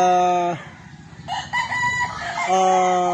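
A rooster crows loudly and close by, a long drawn-out call that breaks off and then returns, with a rainy rural backdrop between the crows.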